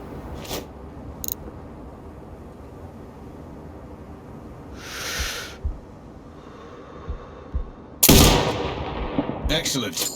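Sniper rifle shots in the video game Sniper Ghost Warrior Contracts 2: loud broadband cracks, one sharp and powerful near the end, with a few weaker reports earlier over a constant game ambience.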